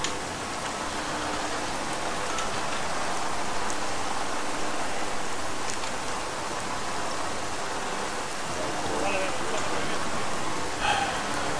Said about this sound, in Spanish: Que se ponga a llover en mitad del desierto